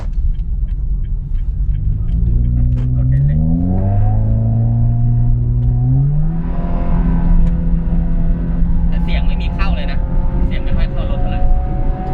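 A remapped Honda Jazz GK automatic car accelerates, its engine note climbing and shifting through several rising sweeps, loud and close. Speech is faintly present in the background.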